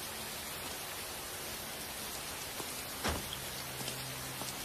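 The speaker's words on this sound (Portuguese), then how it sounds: "Vamos sair da chuva, pessoal." Rain falls steadily in an even, hissing wash with no gaps, joined around the middle by a brief low thud and a faint hum.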